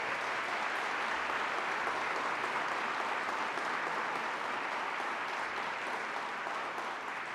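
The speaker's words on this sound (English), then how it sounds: "I just want to clap for them again." Steady applause from a crowd at a Colgate University all-staff meeting, dense and even throughout, with no voices standing out above the clapping.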